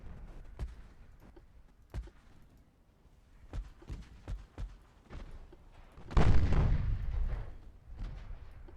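Warship guns in the naval battle game Ultimate Admiral Dreadnoughts fire in a series of sharp, separate booms, then a louder, longer blast rumbles near the end.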